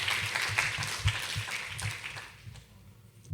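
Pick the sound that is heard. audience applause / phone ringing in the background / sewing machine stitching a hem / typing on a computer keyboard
audience applause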